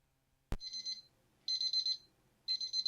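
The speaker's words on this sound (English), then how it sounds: "there goes our timer" A kitchen timer in a home kitchen goes off as pasta finishes cooking: a sharp click, then repeated bursts of rapid high-pitched electronic beeping, loud and close, with short pauses between them.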